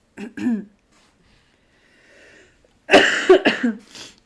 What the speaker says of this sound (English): I should mute my coughs